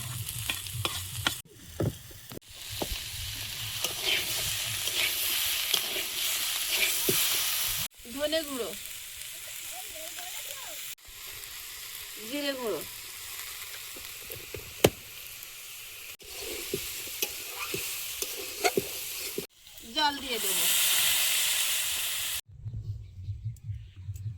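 Mixed garden vegetables frying in a pan, a broad steady sizzle with intermittent stirring scrapes and knocks, cut by brief quieter gaps, and a faint voice at moments.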